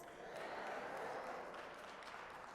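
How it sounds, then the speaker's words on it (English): A crowd of people clapping their hands together in steady, dense applause, moderately loud and continuous throughout, with faint voices mixed underneath. "They clapping their hands."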